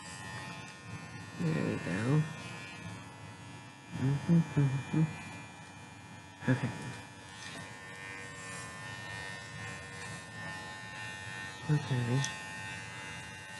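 Electric clippers buzz as they shave a Shih Tzu, a low steady hum that dips and surges in short bursts as the blades work through the coat, while a person talks briefly nearby.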